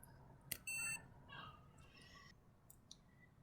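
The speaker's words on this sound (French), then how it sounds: "Une fois qu'il est allumé, vous entendrez un bip." A veterinary ECG recorder, a Dextronics VET-ECG, powers on with a short electronic beep, preceded by a click, in a quiet room with faint handling noises afterward.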